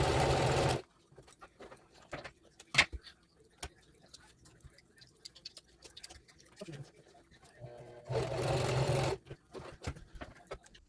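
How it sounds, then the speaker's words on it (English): A SINGER HD4432 sewing machine runs in two short bursts, a steady loud whir at the start and again near the end, with quiet clicks, shuffling and background noise between. "I will let you guys listen to the sound of this sewing machine"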